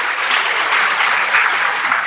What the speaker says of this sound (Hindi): जोरदार तालियां आप सब लोगों की होनी चाहिए